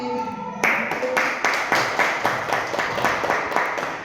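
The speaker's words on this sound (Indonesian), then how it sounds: "Tepuk tangan kepada Ibu Lilis." Applause for a teacher, Ibu Lilis, at a school presentation: after a brief opening tone, a small group claps in a rhythmic, pulsing pattern of repeated beats, fairly close and steady.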